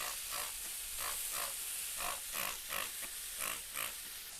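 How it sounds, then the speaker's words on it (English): A brisket on a backyard smoker is spritzed, giving repeated short hissing sprays in an irregular rhythm over a constant background rush, close and moderately loud, with no talk. "We're gonna go ahead and just hit it with the spritz real quick"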